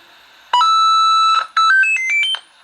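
A loud two-part chime plays at startup on a homemade Lego Game Boy running RetroPie on a Raspberry Pi: a held tone, then a rising run of quick electronic notes, close and alone.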